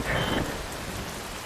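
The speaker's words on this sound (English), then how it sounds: "Wind blows. Rain falls." Rain and thunder in the video game Metal Gear Rising: Revengeance: steady, dense rainfall hisses throughout, with a low rumbling thunder swell near the start that fades into continuous rain noise, no voices present.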